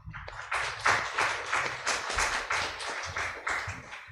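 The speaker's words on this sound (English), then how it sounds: "let's give another big round of applause for all of the participants and for yourself" An audience at a COVID-19 country report symposium claps in a lively round of applause, with brisk, uneven hand claps sustained throughout at moderate loudness.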